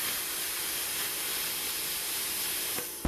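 A BestArc plasma cutter slicing 20 gauge mild steel on 110 volts at 15 amps and 50 psi air, a loud, steady roaring hiss held throughout before ending in an abrupt pop at the close.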